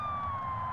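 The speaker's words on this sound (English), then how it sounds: "use my siren to get his attention" A police patrol car siren wails as a steady, loud electronic tone that glides slowly downward, continuous for the whole short stretch with no talking.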